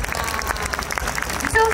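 An audience claps steadily and fairly loudly to welcome award-winning teams at the closing ceremony of the Koiya Festival 2022, with a voice speaking over the applause.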